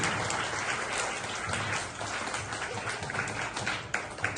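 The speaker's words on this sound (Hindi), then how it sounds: "सबके लिए ताली बजाओ लोग।" Audience applause following a Hindi poem recital about a soldier's life, a steady dense wash of many hands clapping throughout, moderately loud and without speech.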